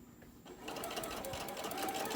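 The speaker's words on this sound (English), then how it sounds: "I'm going to go all the way down to the end and sew that." Sewing machine stitching a cell phone rice bag, a steady quiet mechanical whir that speeds up partway through, with a voice talking faintly under it.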